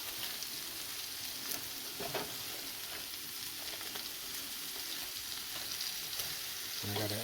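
Food frying in a pan as it is stirred, heard as a soft, continuous sizzle with faint scraping, fairly quiet and without talk.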